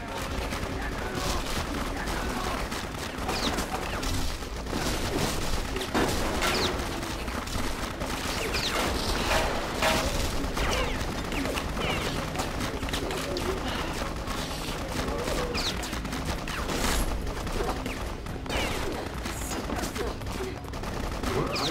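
Rapid bursts of gunfire fill the BloodRayne video game scene, dense and continuous for the whole stretch with clustered shots and a few brief chirping effects mixed in.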